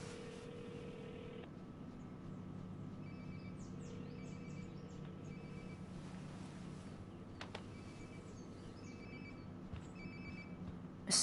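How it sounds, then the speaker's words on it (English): A phone rings nearby in the video game Life is Strange, a repeating electronic ringtone in evenly spaced bursts, faint and fairly quiet over a low steady ambient hum, with no speech. "Sounds like my phone is definitely nearby."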